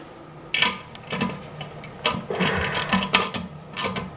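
Wrench turning the tank nut on a new toilet reservoir, giving close, irregular metallic clicks and scraping in short bursts across several seconds, with no voices.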